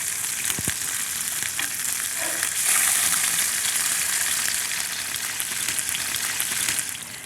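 A skin-on salmon fillet sears in a hot pan, making a loud, continuous close-up sizzle and crackle with a few soft knocks early on and no talking.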